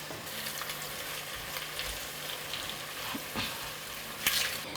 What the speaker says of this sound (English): As we add the onions in there, just to save our time, if we add a pinch of salt in it, it lets the onion to cook a bit more faster.